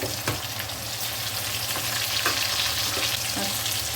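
Taro (gathi kochu) fries in a pan with salt and a tomato, a steady close sizzle with occasional stirring clicks and no talk.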